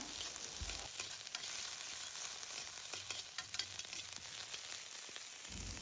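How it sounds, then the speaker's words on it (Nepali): Onions frying in oil for a Nepali-style mushroom curry, a soft continuous sizzle with occasional light stirring knocks, faint and close. "र अब प्याज फ्राई गर्नु होला।"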